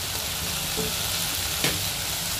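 Ground cumin and coriander fry in oil in a pan for a lote fish curry, making a steady sizzle with a sharper clink or scrape near the middle, and no one talks.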